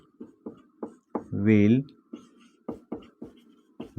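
Pen or chalk writing out an English sentence during a Hindi-language translation lesson, a series of short scratchy strokes in uneven rhythm, close and clear, with a brief spoken word in the middle.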